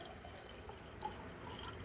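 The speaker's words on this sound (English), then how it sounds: "Let's pour that water in again without making too much of a mess." Water poured into a container for a light-bending experiment, a faint, steady trickling wash with no talk over it.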